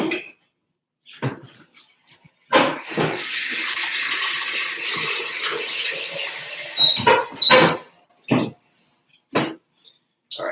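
Roughly 1,150 grams of warm water, around 90 degrees, is poured into a bowl for bread dough: a steady splashing pour lasting about five seconds, framed by a few short clunks and knocks before and after.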